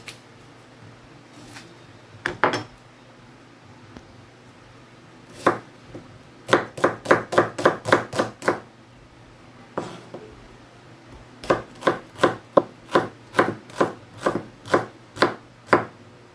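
A knife slicing onion on a cutting board: a few scattered strikes, then two quick rhythmic runs of crisp chops, close and clear with no talking.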